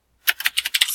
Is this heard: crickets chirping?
no